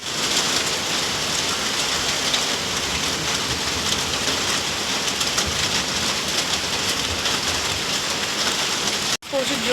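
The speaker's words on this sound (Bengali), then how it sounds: "দেখো কত জোর জোর বৃষ্টি চলে এসেছে।" Heavy rain pours steadily outside a house, seen from an upstairs room. It makes a dense, continuous hiss that stays loud and close throughout, with a brief break near the end.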